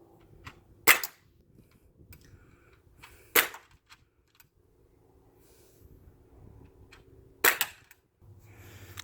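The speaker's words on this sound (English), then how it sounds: "Kaki's going to get ready to shoot the SIG rifle." Three sharp pellet gun shots crack out several seconds apart, each a brief loud snap over a quiet outdoor background with faint scattered sounds between.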